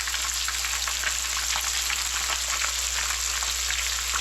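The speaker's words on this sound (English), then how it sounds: "the oil was hot from frying the chicken, and so I just put them in." Steady, even sizzling of spring rolls frying in hot oil, a close, continuous crackle with no voices.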